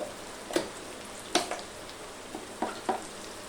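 Curry leaves dropped into hot oil for Maharashtrian dal fry give quiet sizzling crackles, with several sharp spattering bursts spread across a soft, steady hiss.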